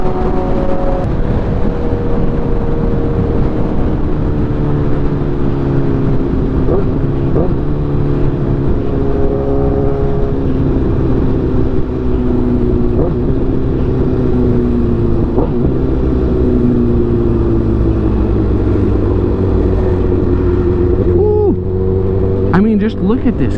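A 2012 Honda CBR1000RR motorcycle under way, its engine droning loud and continuous with rising and falling pitch as the rider accelerates and shifts, wind noise throughout.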